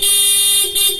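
Stock horn on a GTR Supra 150 motorcycle blaring loud and close, a steady sustained honk lasting about a second with a brief dip near the end.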